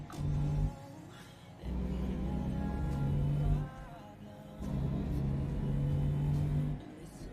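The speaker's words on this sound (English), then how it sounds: "The engine on it sounds so loud compared to the trucks I've been driving." A big truck engine in the American Truck Simulator game, driven in a convoy, gives a loud, steady low drone with wavering harmonic tones that surge and settle in repeated waves.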